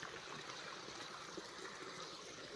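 Water trickles from a hillside drinking-water spring source in Nepal, a faint, steady wash of flow with no pauses and no voices.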